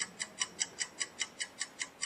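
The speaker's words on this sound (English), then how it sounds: "So it has some good sound effects, has the ticking clock" Ticking clock effect from the Bomb Quiz game show style quiz game, eleven crisp, evenly spaced ticks about five per second, close and clear with no voices.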